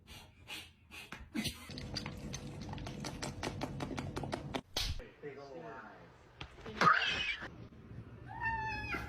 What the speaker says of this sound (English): What the heck is up with these cats having anger issues?